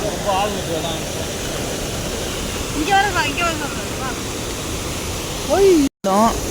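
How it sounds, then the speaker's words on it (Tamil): Loud, steady roar of rushing water running high in Valparai during rainy weather, close by, with a few voices talking briefly over it. "ரொம்ப தண்ணி அதிகமாக இருக்குது"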